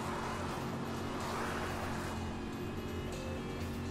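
A car driven through a narrow pathway in Transformers: Dark of the Moon gives a steady, continuous engine hum with droning tones, even and unbroken throughout, with no talk over it.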